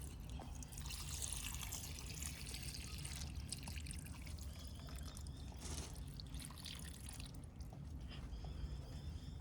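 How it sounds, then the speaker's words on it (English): Water emptied out of a Mine It Gold minting kit, a continuous close trickling and splashing pour with occasional drips, steady and moderately quiet with no voices. "So now I'm just going to empty the water out."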